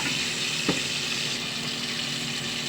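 Tomatoes sauté in a pan with a steady, close sizzle and soft frying crackle, plus one brief clink of a utensil; no voices.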